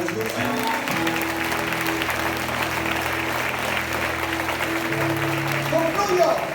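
A church congregation claps for Jesus during a sermon, dense continuous applause over a sustained organ or keyboard chord that keeps going throughout.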